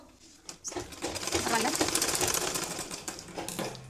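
A sewing machine stitches a 6-12 month baby tikli hat in a fast, continuous rattling run, rising in loudness after a short pause near the start, close up and alone.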